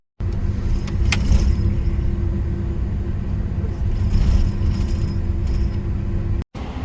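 Continuous low engine hum and rumble of a car on a long road trip across Ukraine, with faint mechanical creaks and a brief dropout near the end.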